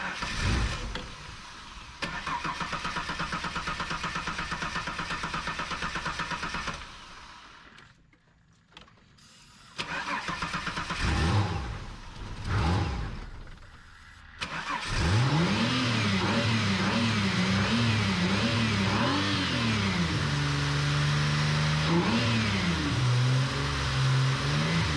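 V6 nitrous test car engine idling and revving, loud close mechanical drone that cuts out briefly, restarts with rising and falling revs, then holds a sustained high rev with wavering pitch.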